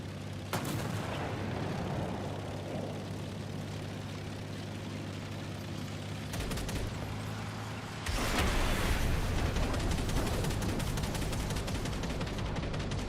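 Heavy tank cannon and gunfire in War Thunder around a BMP-3 light tank, loud sustained booming and crackling bursts with a sharp blast near the start and a louder, denser barrage in the second half.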